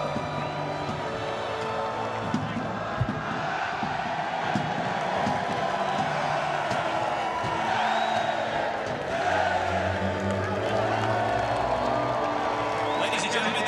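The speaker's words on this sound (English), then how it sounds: "let's have a nice round of applause and congratulations to the 2014 Lamar Hunt US Open Cup champion" A stadium crowd at PPL Park roars and cheers for the 2014 Lamar Hunt US Open Cup champion Seattle Sounders after the final against the Philadelphia Union. The dense, sustained cheering and whooping carries on throughout without letting up.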